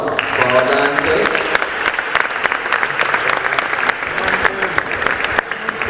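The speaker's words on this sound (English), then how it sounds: "we'd like to give another round of applause for our dancers" An audience at an exposition opening ceremony gives steady, full applause for the dancers, sustained close clapping with a voice briefly audible early on.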